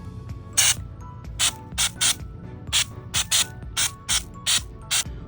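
A texture spray can being shaken hard before patching a ceiling, its mixing ball rattling in about ten quick, evenly spaced bursts, close and loud, with no talking.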